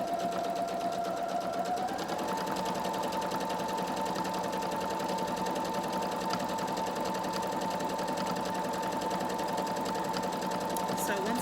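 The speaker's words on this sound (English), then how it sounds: "I'm going to get started and stitch all of these together." Sewing machine stitching bra fabric, running steadily and continuously at a constant speed for the whole stretch, close and fairly loud with a rapid mechanical whir.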